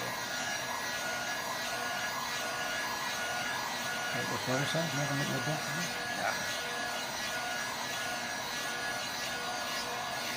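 Heat gun blowing on carbon fiber vinyl wrap over a car fender flare, a steady loud whooshing hum throughout, with a brief rubbing sound partway through.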